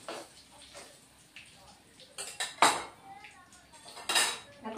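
Metal pan and utensils clink and scrape while fried paneer is lifted out, a series of sharp irregular clatters that grow louder toward the end, close up with no talking.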